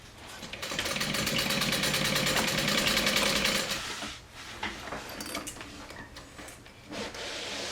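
Sewing machine stitching down pieces of a Swoon Sierra bag, a close, steady rapid needle chatter for a few seconds, then quieter intermittent mechanical clicks and handling.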